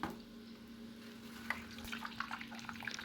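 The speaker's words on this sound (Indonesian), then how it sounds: "Nah ini kita goreng sampai benar-benar berkulit seperti ini ya kentangnya ya" Potato pieces fry in hot oil for nasi kebuli, a quiet, continuous sizzle with scattered crackles and pops growing busier toward the end, over a low steady hum.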